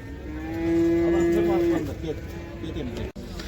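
Cattle at a livestock market in Uzynagash, Almaty, give one long, loud, close moo that holds steady for about a second, with the busy chatter of the crowded market carrying underneath.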